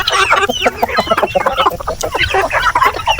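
A flock of chickens clucks busily and continuously while pecking at papaya, with overlapping close, loud chatter and clucks throughout.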